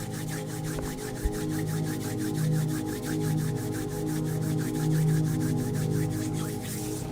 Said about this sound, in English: Maybe bring those hands together in front of you and gently rub them together.